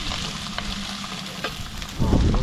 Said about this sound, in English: these guys face down just for a moment. Just to sear it.